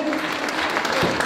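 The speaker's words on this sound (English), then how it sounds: "give me a little round of applause here, guys" Live audience applause, a brief burst of dense, steady clapping from a crowd of people, fairly loud and continuous.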